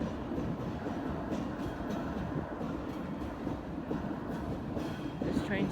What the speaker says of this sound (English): I think that train on the first track's going.